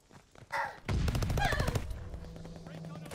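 Sten submachine gun in Call of Duty Vanguard fired while sprinting, a fast rattling burst of close, loud shots lasting about a second after a single thump, followed by fading ringing tail.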